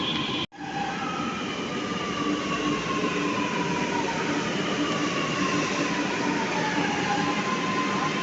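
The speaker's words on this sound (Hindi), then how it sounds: "तो हमारी ट्रेन आ गई." A Lucknow Metro train pulls into the station with a loud, steady rumble and thin squealing wheel tones that drift downward as it slows, following a brief drop in level at the start; no talking.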